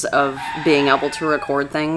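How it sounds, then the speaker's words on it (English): A rooster crows in the background on a homestead where juvenile chickens are kept, its call sitting behind close, continuous talking. "You can hear one of them in the background right now if you hear the rooster crowing."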